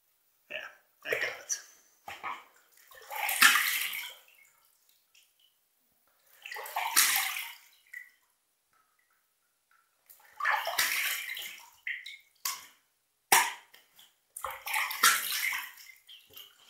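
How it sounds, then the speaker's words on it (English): A bathroom tap runs in several bursts for rinsing during a shave with an Arko shave stick, splashing water in and out with quiet gaps between runs, someone talking at times. "We're going to do a rinse from the tap. Get some nice clean water in there"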